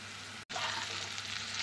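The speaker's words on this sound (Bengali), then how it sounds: "আমি মিডিয়াম ফ্লেমে কাংড়েলটাকে ভাজব" Sliced spiny gourd (kankrol) salted and spiced with turmeric, frying over a medium flame in a covered pan, a steady dense sizzle broken once by a brief silent gap.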